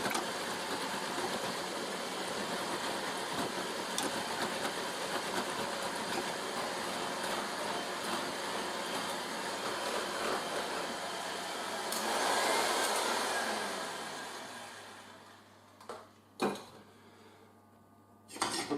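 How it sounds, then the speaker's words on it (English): Cornflour whisked with warm milk for custard makes a continuous brisk metallic whisk rattle against a bowl that slows, then stops, followed by a few clinks. "now I'm going to start adding the warm milk gradually, bit at a time, and keep whisking it"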